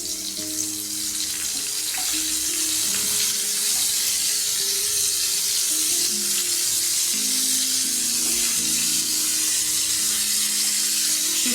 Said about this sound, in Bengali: এটা আমি হিট বাড়িয়েই ভাজবো